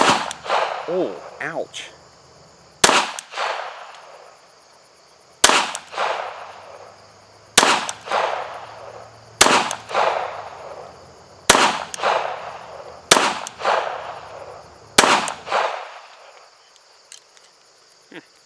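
Pistol shots from sidearms fired at a target down range in Call of Duty Black Ops, about seven sharp loud reports spaced a couple of seconds apart, each followed by a decaying ring, with a brief spoken exclamation early on.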